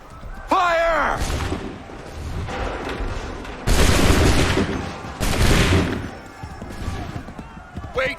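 Soldiers fire musket volleys in Assassin's Creed 3, with two loud crashing bursts of gunfire, each ringing out for over a second, alongside shouted voices and battle noise.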